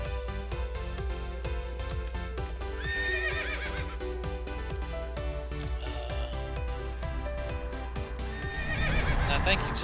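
Horses neigh and whinny in World of Warcraft, mixed with clip-clop hooves and game music, with brief talk over the scene.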